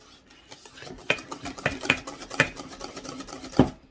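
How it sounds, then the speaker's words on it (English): A whisk clatters against a bowl while sweet potato pie filling gets mixed, with quick uneven clinks and scrapes at close range, a few sharper taps standing out near the end. "So I whisked this together really good."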